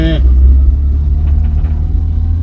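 A Vauxhall Viva engine idles slightly high, running a little rich, with a steady low rumble that carries through the whole stretch and a brief harmonic whine at the start.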